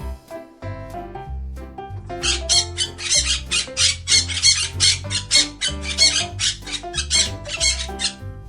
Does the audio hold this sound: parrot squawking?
yes